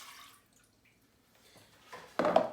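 Milk and water are poured into a saucepan already holding butter, sugar and salt; after a near-silent pause, a short soft trickle leads into a brief, louder splashing pour up close.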